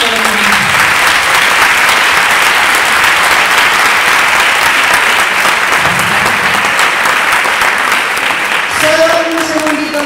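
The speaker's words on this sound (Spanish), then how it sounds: "un aplauso muy fuerte para todas" Loud, sustained applause from an audience at an inaugural event for MAC3, a dense continuous roar of clapping lasting throughout, with a few faint voices breaking through at moments.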